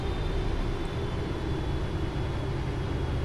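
A Boeing 777F airliner comes in to land in the flight simulator FSX, its engines and rushing air forming a steady, loud, unbroken roar.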